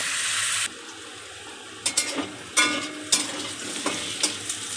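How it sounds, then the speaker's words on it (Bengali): Potatoes stirred and fried in oil in a kadai: a brief sizzle cuts off, then several sharp spatula scrapes and clatters against the pan over a softer background fry. "নাড়াচাড়া দিয়ে আলুগুলোকে ভালোভাবে ভেজে নেব।"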